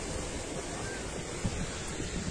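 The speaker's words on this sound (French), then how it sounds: "Vous entendez, on entend vachement fort les vagues, en fait, ici." Ocean waves break near a garden by the shore, a continuous loud roar of surf mixed with wind rumble, steady throughout with no talking.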